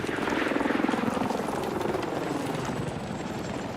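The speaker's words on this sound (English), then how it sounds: "I'm tracking a hostile helicopter in the AO." Hostile helicopter in the Battlefield 6 video game, a loud continuous rotor thump with a steady rhythmic chop and engine whine, sustained throughout, holding level as if passing fairly close.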